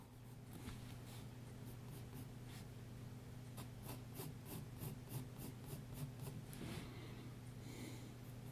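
A pencil sketches on paper during a drawing study of an eye from a Leonardo da Vinci portrait. Soft, close scratching strokes come in quick rhythmic bursts over a low steady hum, with no voices.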